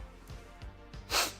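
A single loud, close sneeze bursts out near the end, a sharp noisy explosion after a few soft breathy snorts and sniffs beforehand.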